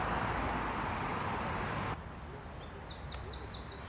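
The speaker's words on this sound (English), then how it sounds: "Tennis court, trees, couple of birds, and a Mazzy." Birds in a park chirp in a quick run of high, bright notes toward the end, after a loud rush of wind or traffic noise suddenly drops away.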